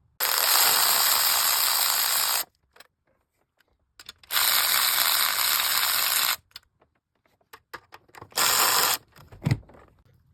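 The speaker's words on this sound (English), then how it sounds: "So let me get off all of these bolts you see, right?" A ratchet wrench loosening bolts on a car's air housing unit: three loud, close bursts of rapid clicking separated by quiet gaps and a few light mechanical knocks.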